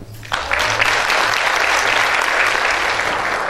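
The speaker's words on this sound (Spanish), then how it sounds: "le pido a los hermanos Torres Sánchez que le brinden un fuerte aplauso" Audience applause at an inauguration ceremony, a loud, dense burst of clapping that swells in quickly and holds steady throughout.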